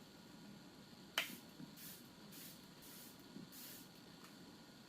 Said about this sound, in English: I'll just use my usual setting spray, Airbrush Flawless by Charlotte Tilbury.